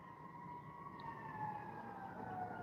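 Emergency vehicle sirens wail steadily in the distance, a faint continuous tone drifting slowly in pitch over a low background rumble, with no talking.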